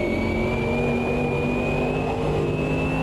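A heavy GT race car with traction control and ABS drives in the racing video game Automobilista 2, its engine droning loudly and steadily with a slowly rising pitch, and no talk over it.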